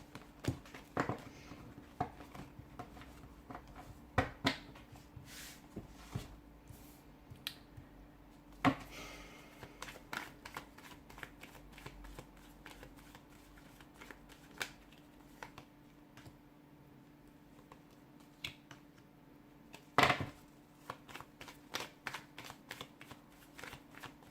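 Tarot cards being shuffled and handled: soft riffles, flicks and light taps recur throughout, fairly close and quiet, with a faint steady hum underneath and no talking.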